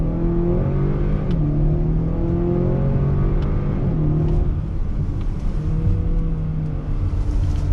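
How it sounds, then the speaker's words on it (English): A 2021 Acura RDX A-Spec compact luxury SUV accelerates from a dead stop on throttle with manual shifting, its engine note climbing in rising sweeps that drop briefly at each gear change, loud and close from inside the cabin. "let's do another on-throttle acceleration from a dead stop, manual shift, on throttle"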